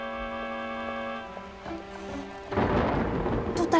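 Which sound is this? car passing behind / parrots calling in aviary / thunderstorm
thunderstorm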